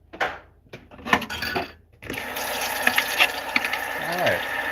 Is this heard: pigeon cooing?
no